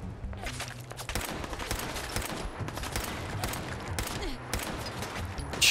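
Rapid gunfire in the video game Fallout 4, dense bursts of shots running almost continuously and loudly throughout, with faint footsteps mixed in.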